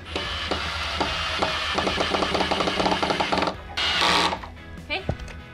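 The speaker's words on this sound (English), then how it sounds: "We're using 2½-inch pocket hole screws and wood glue to attach." A drill drives 2½-inch pocket hole screws through a laminated 2x4 into a wooden bed leg, giving a steady run of rapid ratcheting clicks followed by a brief louder whir and a few scattered knocks nearby.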